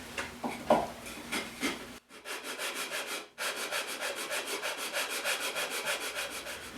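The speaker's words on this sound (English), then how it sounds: "It takes a lot of effort to take off a 32nd of an inch hand sanding" Hand sanding mulberry wood, a steady rhythmic back-and-forth rasp of fast strokes, close and fairly loud, with a couple of brief pauses early on.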